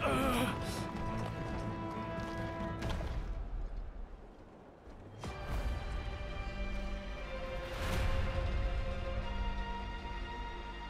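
Horse hooves gallop in the video game Wo Long: Fallen Dynasty, a steady clip-clop run layered over game music and effects, with a brief lull midway before the pounding resumes.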